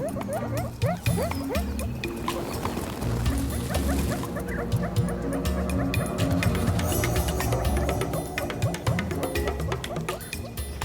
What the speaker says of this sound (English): Rocket Dog raises a desperate alarm.